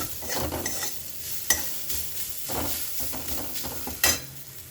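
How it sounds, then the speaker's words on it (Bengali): A spoon stirs food sizzling in a pan after a pinch of sugar goes in, with steady scraping strokes and a couple of sharp clinks against the pan, all close and without talk. "আর অল্প একটু মিষ্টি, মানে চিনি দেবো অল্প, সামান্য, দিয়ে এটাকে নাড়াচাড়া করে"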